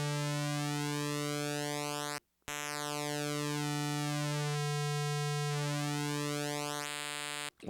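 Hydrasynth synthesizer playing a square wave through its oscillator mutant effect, a steady buzzy electronic tone with sweeping, chirping harmonic changes, one brief dropout, loud and alone with no voice.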